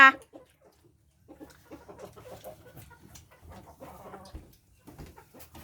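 Chickens cluck in soft, scattered bursts close by in a quiet outdoor setting, with a sharp sound at the start and low background noise between calls.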